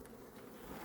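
Honey bees humming softly around an open hive during a mid-October colony inspection, a faint, steady drone with no break across the short moment.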